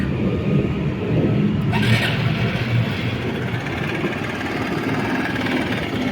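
A moped engine runs on diesel fuel just after its first start, a steady, close, rough droning idle that continues without break and without speech.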